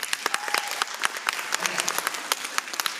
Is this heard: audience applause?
yes